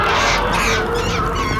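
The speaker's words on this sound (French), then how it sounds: "les oiseaux s'envolent" Birds taking off together, a dense burst of flapping wings and honking, goose-like calls, loud and close over a rushing background.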